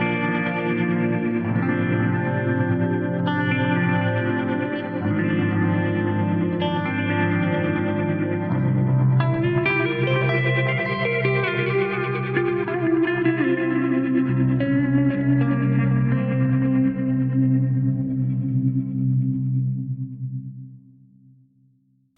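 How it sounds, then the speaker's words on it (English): A clean electric guitar played through an Eventide H9 undulator algorithm alongside a Fractal Audio AX8 stereo delay and big reverb, sustained chords wavering and shimmering with a warbling modulated swell before fading out at the end. "one of my favorite algorithms is this undulator algorithm in the H9"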